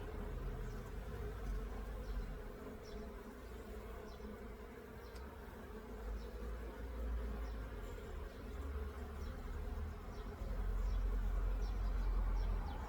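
Honey bees buzz around an open hive during a June inspection, a dense, continuous drone of many insects close by, steady throughout with occasional individual bees passing nearer.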